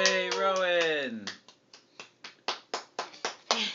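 A baby's hands clap about ten times in a quick, uneven series at a first birthday party, following an adult voice and cheering at the start.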